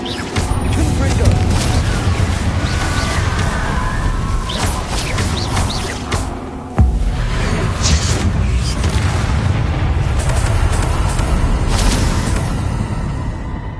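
A fire-blasting explosion spell booms out in a Harry Potter video game over a dense, constant wash of combat noise and music. The sound dips briefly, then a fresh blast hits hard and loud.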